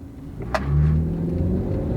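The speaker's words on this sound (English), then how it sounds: "we'll come to a stop, and then we'll floor it" A turbocharged crossover pulls away hard from a stop, its engine swelling into a deep rising rumble heard from inside the car, with a brief click just before the surge.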